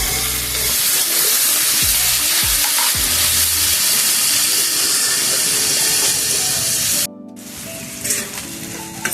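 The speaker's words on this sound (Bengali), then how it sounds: "এখন 5 মিনিটের মতো ভেজে নিয়েছি" Green beans and other vegetables sizzle steadily as they fry in a pan for a Bengali vegetarian ghonto, with occasional stirring scrapes. The constant frying hiss fills the clip, then drops abruptly near the end.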